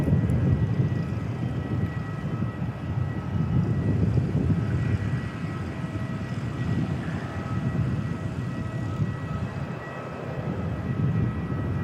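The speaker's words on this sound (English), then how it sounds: "Next arrival, another ATR coming in from Wellington" An ATR turboprop arriving at Christchurch Airport from Wellington gives off a continuous, moderately loud engine rumble and roar that swells and eases slightly over the stretch, with no talk.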